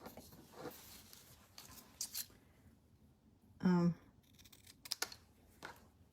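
Scissors trim the end of a paper sentiment during card making: one crisp snip stands out amid soft paper rustles and handling noises, with a person talking quietly around it.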